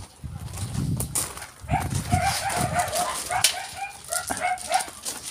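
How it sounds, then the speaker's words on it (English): Several dogs bark and yap excitedly in quick bursts on a country road, fairly close, with some rustling and a faint voice underneath. "These dogs are yapping at that dog."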